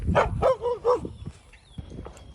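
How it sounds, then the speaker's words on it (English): A few close, loud dog barks in quick succession, followed by quieter background yips and rustling. "this whole pack of dogs is chiming in"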